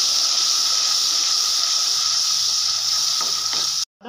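A pan of ginger and masala paste cooking for a carrot and pea sabzi, giving a loud, constant steamy hiss and sizzle that cuts off abruptly at the end.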